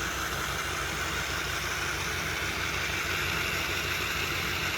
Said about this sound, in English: You can hear the wheels are turning